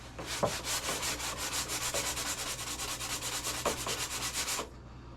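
Sandpaper scrubs the outside edges of a Zipkits SLR Missile Thunderboat model boat hull in quick, even back-and-forth strokes. The rhythmic rasping runs continuously for several seconds, close up and moderately quiet, then stops.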